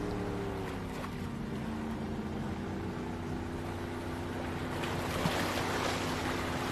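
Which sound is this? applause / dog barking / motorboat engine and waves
motorboat engine and waves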